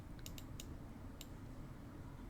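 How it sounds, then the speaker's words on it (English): Computer mouse clicking during a Civilization-style strategy game, a handful of sharp, quiet clicks in an irregular cluster early on, then one more isolated click, over a low steady background hum. "I hear my mouse clicks through my headphones"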